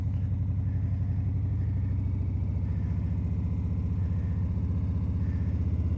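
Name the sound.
motorcycle engine revving as rider pulls away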